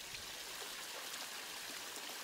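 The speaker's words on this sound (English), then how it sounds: "pump the water from the lower pond back to the header pond and watch as it cascades down the waterfall" Pond water pumped from a lower pond to a header pond tumbles down a garden waterfall, a steady, even rush that carries on without a break.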